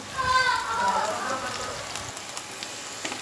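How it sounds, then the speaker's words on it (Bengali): Finely chopped onions frying in a pan over a medium gas flame for a baingan bharta, giving a steady close sizzle and crackle like light rain, fading slightly after the first second. "পেঁয়াজ কুচিটা দিয়ে দিয়েছি গ্যাস মিডিয়ামে রয়েছে পেঁয়াজ কুচিটা এবার হালকা আমি ফ্রাই করে নেব"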